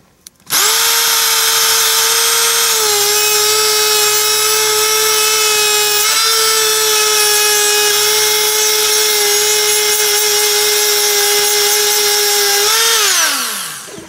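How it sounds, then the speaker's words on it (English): A Dremel with a sanding attachment whines steadily at a high pitch for several seconds cleaning DeLorean ground terminals, its tone dipping slightly mid-run before spinning down at the end. "take a sanding tool, like a Dremel with a little sanding attachment"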